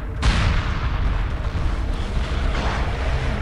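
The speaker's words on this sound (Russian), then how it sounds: "Взрыв суперновый просто." A supernova explosion effect in the space strategy game Homeworld Remastered, a sudden loud roaring blast that bursts in and sustains as a dense, rumbling wash for several seconds, with no talking.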